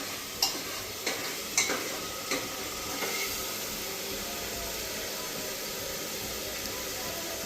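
Chopped vegetables sizzle steadily in a hot pan as they brown, with a few sharp spatula scrapes and clinks of stirring early on, then an even frying hiss.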